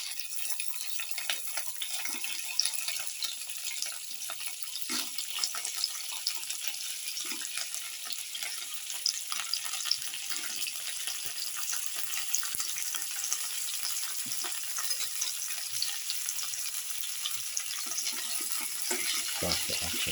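Cooked okra pieces frying in garlic sauce in a pan, a steady soft sizzle and hiss with occasional faint stirring scrapes, heard alone without voices.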